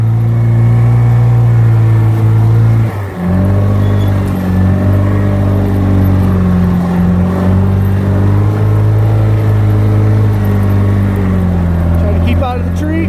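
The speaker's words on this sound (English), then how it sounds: "Listen to that mean little four-cylinder." A 1969 Series II Land Rover four-cylinder engine runs steadily and loudly close by on a winter trail, a deep, even drone with a brief dip near the start and slight shifts in pitch as it labours.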